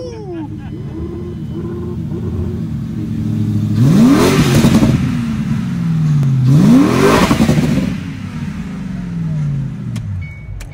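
A V10 car engine fires up with a starter whine and catches, then revs hard twice with rising, rasping surges over a steady idle, loud and close while people talk nearby.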